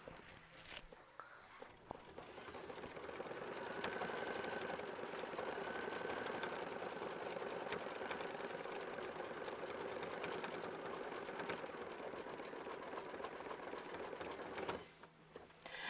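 An embroidery machine stitching out a quilted butterfly block with embroidery bobbin thread, a steady rapid mechanical whir and needle patter running continuously at close range after a brief quieter start, stopping near the end.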